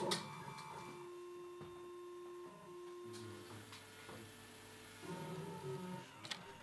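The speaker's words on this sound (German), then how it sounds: "Mit einem simplen 3D-Drucker printet er die Vorlage." A simple 3D printer builds a handcuff key from heated plastic, giving a steady low mechanical hum with faint ticking and shifting motor tones that change pitch every few seconds, heard close and alone.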